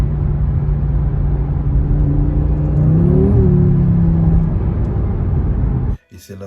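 Audi RS3 with 400 hp driving on the road, a loud, steady engine drone with a brief rising rev in the middle, then a sudden cutoff near the end.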